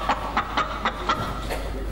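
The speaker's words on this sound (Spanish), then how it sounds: "¿Eso fue la gallina?" A hen clucks in a regular series of short, sharp pulses, about six evenly spaced calls, close and clear over a low steady hum.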